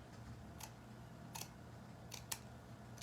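Scissors cutting across the top of a big Walmart roll during a Dollar Tree cathedral window craft, a few faint, sparse snips over a quiet room hum.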